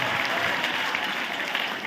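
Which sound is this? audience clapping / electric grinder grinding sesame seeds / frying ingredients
audience clapping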